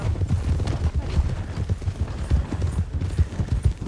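A police horse's hooves clip-clop in a rapid, uneven run, the hoofbeats thudding close and loud amid a crowd's commotion, with voices in the background.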